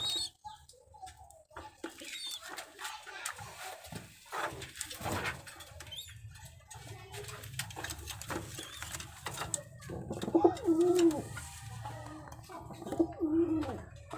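Madrasi pigeons coo in low, throaty bursts, clearest toward the end, over a busy background of rustling and mechanical clatter.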